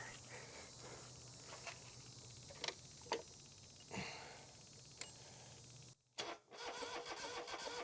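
Riding mower engine on a John Deere 2653a being cranked; the starter churns and the engine sputters and nearly catches, with a few louder bursts, before cutting off and resuming amid faint background insect chirping.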